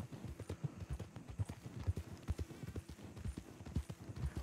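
Horse hooves clip-clopping in the Red Dead Redemption II video game, a steady rhythmic trot of soft, close hoofbeats at low volume.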